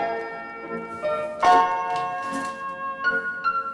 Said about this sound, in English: I knew I wanted some bells, so I added the bells.